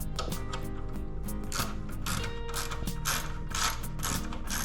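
A ratchet wrench snugs up the mounting bolts of a Camel ADV gut guard on a Yamaha Ténéré 700, giving a rapid, continuous run of close mechanical clicks with bursts of sharper ratcheting.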